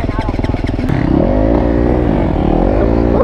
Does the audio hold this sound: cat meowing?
no